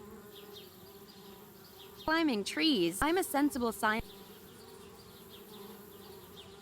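Bees buzz in the video game Anna's Quest, a low steady drone running throughout, while a voice speaks briefly over it in the middle.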